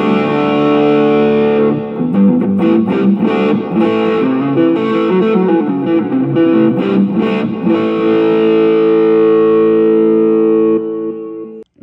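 An electric guitar played through the overdrive effect of a multi-effects unit gives gritty, sustained distorted chords and picked notes, loud and alone, ringing out for a long decay at the end.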